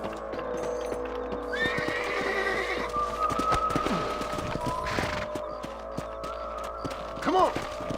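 A horse whinnies loudly amid a busy outdoor scene in Red Dead Redemption, with hoofbeats, thumps and a second shorter neigh near the end.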